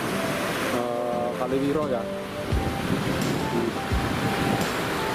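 A small, clear river called Sungai Sirebut rushes outdoors with a steady broadband flow that carries on throughout, while someone speaks over it near the microphone.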